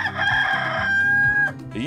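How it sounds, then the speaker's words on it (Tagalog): A rooster crows nearby on a farm, one long loud cock-a-doodle-doo call rising and holding steady, heard alone without talk. "Yun o, tumilaok pa yung manok."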